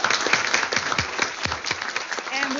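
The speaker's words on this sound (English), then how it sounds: "Let's give our panelists a round of applause" An audience at a workshop applauding panelists, dense sustained clapping from a crowd filling the room, steady for a couple of seconds.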